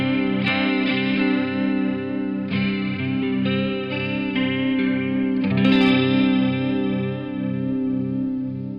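An electric guitar runs through an Electric Mistress flanger pedal in stereo, with sustained, distorted chords swirling and sweeping, and fresh strums at intervals, loud and alone.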